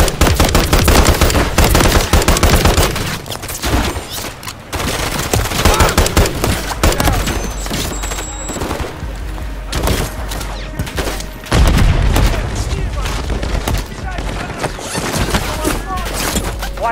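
Heavy automatic gunfire rattles through a Call of Duty Modern Warfare 3 firefight on a highrise, dense bursts and booms nearly nonstop and loud, with brief lulls and voices breaking in amid the shooting.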